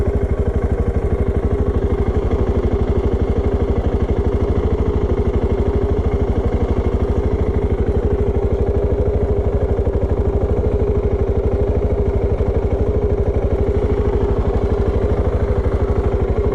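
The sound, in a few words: Voge 650 DSX single-cylinder motorcycle engine revving, Euro 5 exhaust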